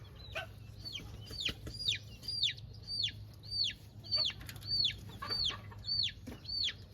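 Young chicks and chickens cluck and peep close by, a rapid, regular series of high falling chirps over soft low clucking, with no voices.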